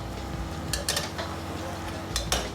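Stir-fried pork belly with leek tossed in a pan, heard as a few quick clattering metallic scrapes and knocks in short bursts, close up over a faint background hiss.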